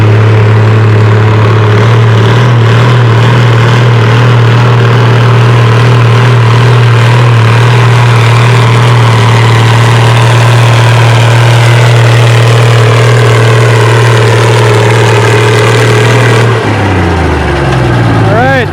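Oliver 770 tractor engine roaring loud and steady at a 4,000-pound, 8 mph class tractor pull, a constant deep drone that holds for most of the run before cutting off and winding down near the end.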